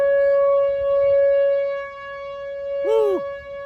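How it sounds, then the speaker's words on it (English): Outdoor siren wailing during a heavy Des Moines, Iowa rainstorm, a sustained steady tone with a brief rising-falling sweep near the end, a voice speaking faintly underneath. "There's a siren again."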